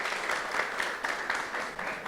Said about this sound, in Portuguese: Olha, pode aplaudir.